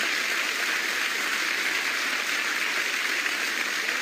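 Steady, dense applause from a crowd, a continuous wash of clapping with no breaks or voices.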